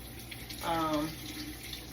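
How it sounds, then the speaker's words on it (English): A kitchen sink sprayer rinses fruit, a short soft burst of running water near the middle of a quiet stretch, faint and close. "Now I'm gonna rinse these off. Got the little sprayer on."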